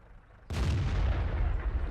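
A T29 tank's 105mm gun firing in World of Tanks, one sudden loud boom breaking a quiet lull, followed by a long rumbling roar that decays slowly.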